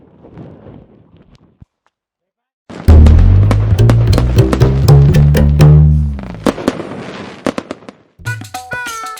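Diwali firecrackers bursting close by, a rapid volley of loud sharp cracks and booms packed together for several seconds after a quiet start, then tapering off into scattered pops.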